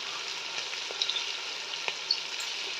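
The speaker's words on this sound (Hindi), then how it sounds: "और कोई तमाम मसालों को ना 4 से 5 मिनट के लिए भून लें" Chili flakes, salt and coriander powder fry in hot oil in a pan for matar egg pulao, giving a constant loud sizzle with a few soft stirring taps and no talking.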